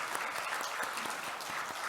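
Congregation in a church sanctuary applauding during a Sunday morning worship service, a dense steady clapping from many hands filling the room for the full stretch, with no talk over it.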